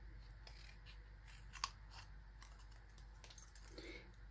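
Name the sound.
scissors trimming card stock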